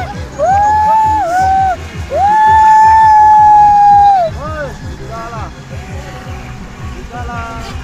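A WL916 RC speed boat runs on a retention pond in Kendari, its small electric motor whining in rising and falling pitch sweeps as it speeds up and slows, with people chatting nearby.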